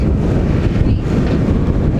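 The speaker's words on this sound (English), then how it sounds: "It's really windy." Heavy wind buffeting a microphone at the Dead Sea in Jordan, a loud continuous low rumble with gusty roar throughout and no clear voices.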